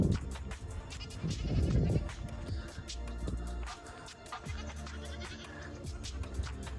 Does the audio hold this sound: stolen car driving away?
no